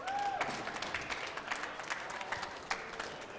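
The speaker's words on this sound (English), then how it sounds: "Round of applause" A squash crowd at the Canadian Open quarterfinals applauds a player being introduced on court, steady moderate clapping from many hands throughout, heard from a distance with a brief voice at the start.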